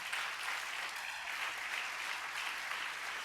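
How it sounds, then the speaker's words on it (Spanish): Steady applause from a church congregation, a dense even wash of many hands clapping throughout, moderately distant with no voices over it. "Dale un buen aplauso a mi Jesús por eso."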